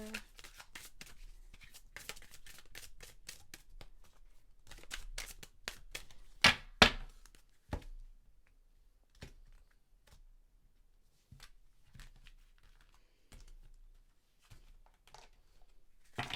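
Tarot cards are handled and drawn, making quick crisp flicks and shuffling rustles in bursts, with sparse card taps and pauses between them in a quiet room.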